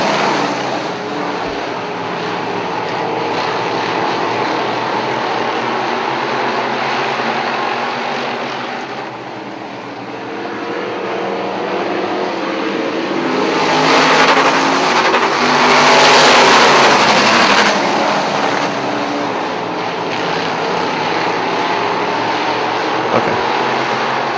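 Race cars roar around a short oval track in a dense, steady pack of engine noise that swells loudly as the field passes close by, then eases away.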